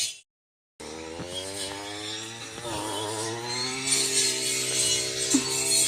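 A grass-cutting machine runs in a field, its engine whining steadily and close, the pitch wavering as it works without any talk.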